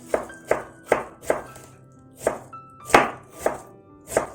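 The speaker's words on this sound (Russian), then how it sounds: "Я сейчас вначале нарежу все овощи" A knife chops vegetables such as onion on a board in a slow, even rhythm, about ten crisp thuds, close and clear with nothing else around.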